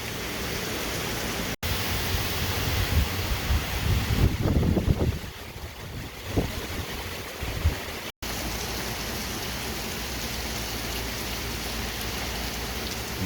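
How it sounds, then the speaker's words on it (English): Heavy rain downpour beginning outdoors at a work site, a steady broadband hiss of rain that swells louder, briefly dips, then returns as a constant dense roar of rainfall on surfaces. "That is the literal start of the downpour."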